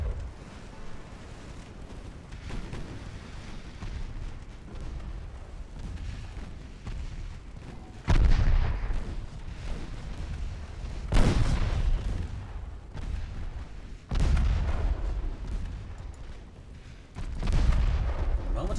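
Naval guns fire in the warship game Ultimate Admiral Dreadnoughts, each salvo a heavy boom over a constant low rumble, with roughly four loud blasts spread across the stretch.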